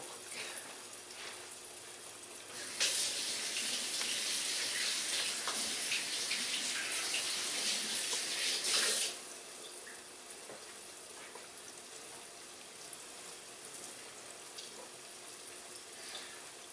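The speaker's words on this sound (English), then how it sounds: "I'm going to go rinse them off real quick" A kitchen tap runs steadily for about six seconds as hands are rinsed, a bright rushing hiss that starts abruptly and cuts off just as suddenly, with quiet room noise on either side.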